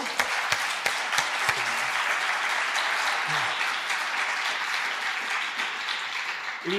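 Steady applause from a lecture audience, dense clapping sustained throughout at an even level, with no voices standing out.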